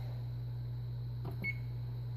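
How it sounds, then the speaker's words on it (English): An oven timer gives a couple of short, soft electronic beeps as it is set, over a steady low hum from an oven being used to bake a GTX280 graphics card. "And we'll go ahead and set the timer."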